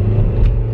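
A car cabin rumbles while driving on a road, with a loud, steady low engine and tire drone heard from inside and no talking.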